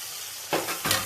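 Two finely chopped tomatoes sauté in a hot pan with cooked chicken. A steady close sizzle swells twice as they are stirred.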